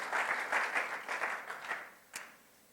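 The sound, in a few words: congregation applause in church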